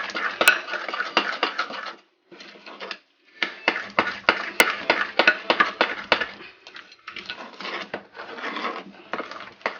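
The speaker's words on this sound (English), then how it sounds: "let me use my spoon to better stir this up" A spoon stirs cornbread batter made with buttermilk in a bowl, producing quick, close clattering and scraping strokes in rapid bursts separated by short pauses.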